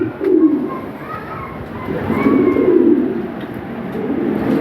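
Breeding toy Lahori pigeons kept for sale coo steadily in a low, rolling murmur close by, with a louder swell midway and no talk over them.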